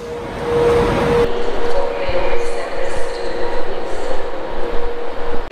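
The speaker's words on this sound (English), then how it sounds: "Here then at Glasgow Central Station" A train rumbles and clatters through Glasgow Central Station, with a steady mechanical hum and rhythmic wheel clicks close by.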